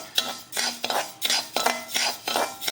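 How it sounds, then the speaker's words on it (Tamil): Raw rice being dry-roasted in a pan for Thiruvathirai kali, with a spoon scraping and stirring the grains in repeated bursts of clinking and rattling, close and clear, with no talking. "இப்போ இந்த பச்சரிசியை பார்த்தீங்கன்னாக்கா கோல்டன் ப்ரௌன் அளவுக்கு நல்லா வறுத்து எடுத்துடணும்"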